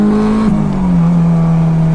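A 380bhp supercharged Honda S2000 on a first drive: a loud, close engine drone holds steady, dips briefly as the pitch shifts down, then settles into a lower, sustained tone with a faint whine above.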